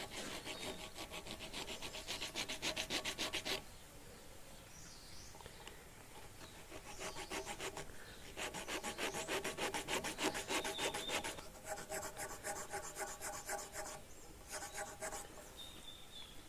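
Dyed pink alabaster is worked by hand with a rasp or small saw to hollow out the inside of a necklace piece. The close, rhythmic scraping strokes come in bursts, with short quiet pauses between them.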